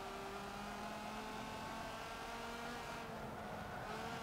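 Race cars, among them a Corvette, roar through a Sport GT race in Forza Motorsport 7, with a continuous engine drone and shifting pitch as the cars accelerate, and a faint tire squeal. No one speaks.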